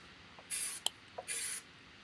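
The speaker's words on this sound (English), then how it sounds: "I've got this contact adhesive spray here" Contact adhesive spray can, two short bursts of hissing spray a moment apart, close and clear, with a small click from the can between them, used while upcycling an old mantel clock.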